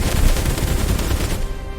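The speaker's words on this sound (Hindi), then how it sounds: "मुझे अपनी AK-47 का मुंह खोलना ही पड़ेगा। फायर, लगातार फायर करो।" AK-47 rifle firing continuously in a police-versus-army standoff, a dense unbroken burst of loud automatic gunfire that rolls on without pause and eases off slightly at the very end, with no voices over it.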